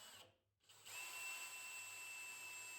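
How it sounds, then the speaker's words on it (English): A power drill pre-drills and drives screws into wood trim from behind on a party cart build, with a brief whir, a short pause, then a sustained high steady whine, close and alone. "all of these are getting pre-drilled and screwed from behind"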